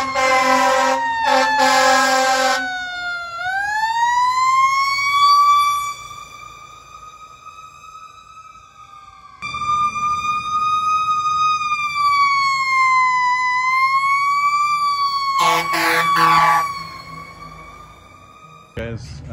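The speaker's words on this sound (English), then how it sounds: "That is a loud siren over there." An emergency vehicle siren wails loudly nearby, rising and falling in long sweeps, broken by blasts of a loud air horn.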